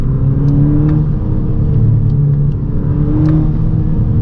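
A 2012 VW MK6 GTI with its 2.0T turbo engine and a new diverter valve runs close by, a steady, strong engine drone that swells slightly in pitch and never drops out, with no talking.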